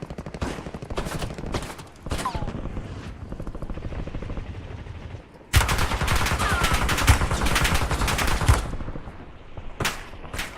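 Incoming gunfire in the video game Call of Duty Warzone, loud rapid automatic bursts over a steady helicopter rotor drone, swelling into a heavier barrage midway with scattered sharp shots near the end.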